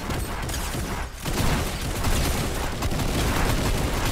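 Fortnite gunfire rattles nonstop for about four seconds as dense, loud overlapping shots with a brief dip near the one-second mark, no voices on top.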